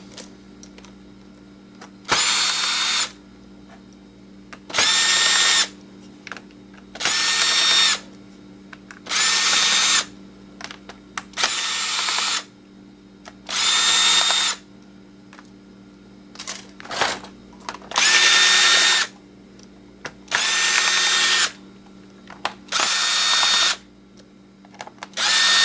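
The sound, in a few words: power drill removing screws from an old laptop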